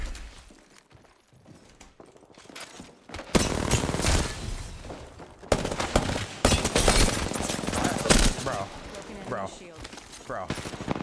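Rapid gunfire rattles through an Apex Legends match, bursts of loud automatic shots starting after a quieter opening and continuing in clustered volleys, while someone talks over the action.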